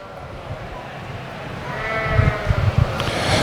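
Sheep at a ewe lamb show bleat several times nearby, the calls growing louder toward the end over a busy indoor hum.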